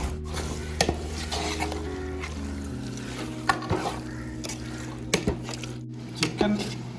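Chicken biryani masala being stirred and roasted in a pan, with soft sizzling and intermittent scraping clinks of a utensil against the metal over a steady low hum.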